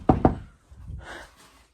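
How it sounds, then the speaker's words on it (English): Two sharp knocks on wood in quick succession, close and crisp, followed by faint handling noise and a breathy sound, during work on a dirt bike. "Knock on wood. Where's wood? Wood."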